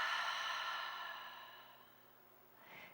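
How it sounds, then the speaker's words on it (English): A slow, breathy exhale through the mouth during a guided yoga breathing flow, a soft airy rush that fades steadily over a couple of seconds before a faint stir of breath at the end. "exhale through the mouth"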